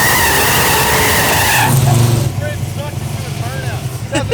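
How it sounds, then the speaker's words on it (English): A no-prep drag race car, such as a 1100hp turbo Integra or 700hp Fox Body Mustang, does a loud close burnout with screeching, skidding tires over a roaring engine, then the squeal drops as the car eases off. "Burnouts."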